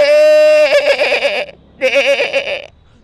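A voice mimics a sheep bleating, starting with a steady held tone that breaks into a shaky trembling baa, then a second wavering bleat after a brief gap, loud and close.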